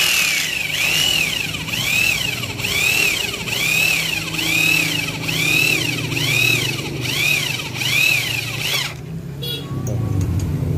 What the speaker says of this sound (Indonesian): Oke, kita langsung aja bor.